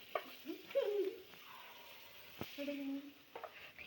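Unniyappam batter frying in a pan gives a quiet, close sizzle with soft stirring, and low voices talk over it in spurts.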